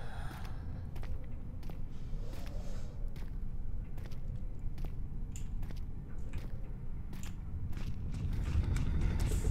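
Creaking and mechanical groans inside Amnesia: The Dark Descent, a steady low rumbling bed broken by scattered creaks and knocks, fairly close and continuous, with no talking over it.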